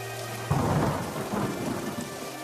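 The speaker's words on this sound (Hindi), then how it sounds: "से ये तेज बारिश।" Heavy rain hisses steadily while a loud thunder rumble breaks in close by and rolls on, with no voices present.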